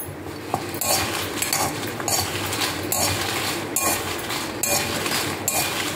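Dried red chilies are dry-roasted in a pan, with a spatula or spoon clinking and scraping against the metal over and over at a busy, uneven pace, close and fairly loud over a faint hiss.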